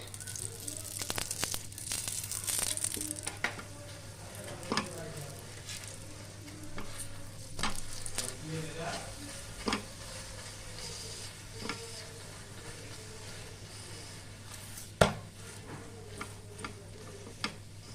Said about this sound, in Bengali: এবার আমি তেল দিয়ে ভেজে নেব সাদা তেল দিয়ে